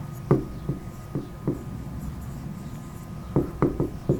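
Marker or chalk strokes on a board during an Arabic grammar lesson, a series of short, distinct scratchy taps in two clusters, close and fairly clear, with no talking.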